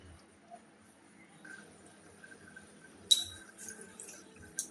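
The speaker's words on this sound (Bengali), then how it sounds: "আবারও ঢাকা দিয়ে দিচ্ছি।" A lid is set onto a cooking pot with a single sharp metallic clink, followed by a few faint rattles, in a quiet kitchen while a curd and pointed gourd dish simmers.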